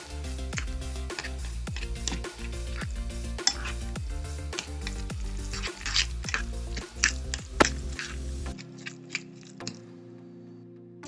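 Tuna melt filling with crispy onions is stirred and mixed in a bowl, giving a close, steady run of wet squishing and scraping with repeated utensil knocks against the bowl, then quieter scattered taps.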